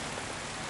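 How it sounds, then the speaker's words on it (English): Light rain beginning to fall on a camping trip along a track, heard as a brief, steady hiss of drops with no voices. "Started to rain a little bit"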